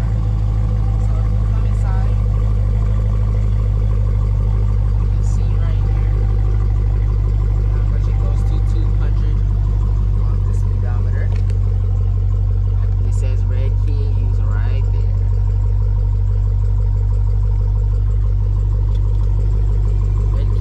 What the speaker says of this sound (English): As you start the car, y'all gonna hear the engine roar.